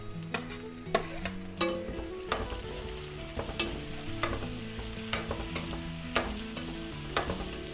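Onions and tomato frying in a pan for masala puri, with a steady sizzle and repeated sharp scrapes of a spoon stirring at an even rhythm, close and fairly loud, with no voices.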